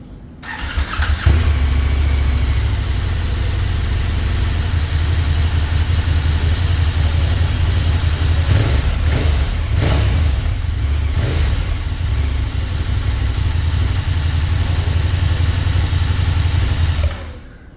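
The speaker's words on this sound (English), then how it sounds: "let's switch on the engine and see how well it sounds" A KTM 1290 Super Adventure S motorcycle fires up and settles into a steady, loud, close idle with a deep throb, a few brief blips of throttle mid-way before it cuts off.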